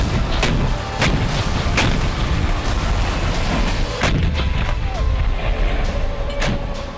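Artillery fire in Belgorod during the Russia–Ukraine war, a series of sharp booms repeating at irregular intervals over a loud, continuous rumbling background.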